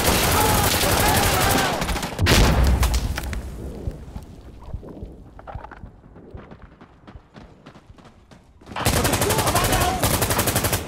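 Rapid bursts of gunfire from the video game Insurgency: Sandstorm, loud and dense at the start and again near the end, with sparser shots and clatter between them.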